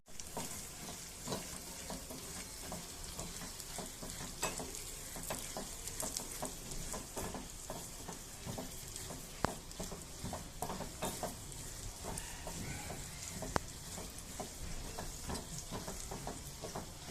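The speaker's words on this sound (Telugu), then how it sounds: "ఎండుమిరపకాయలు వేస్తున్నాను." Dried red chillies frying in hot oil for a tempering of urad dal, chana dal, cumin and mustard seeds, making a steady close sizzle with scattered pops and crackles that runs the whole way without a break.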